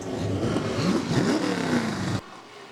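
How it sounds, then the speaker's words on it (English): Several race car engines firing up and revving together at Delaware Speedway, a loud dense roar with rising and falling pitch sweeps that cuts off abruptly near the end. "Drivers, start your engines."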